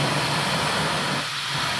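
A Laifen SE 2 hair dryer blows air on a medium setting, making a steady loud broadband whoosh with a constant motor hum underneath that dips briefly near the end.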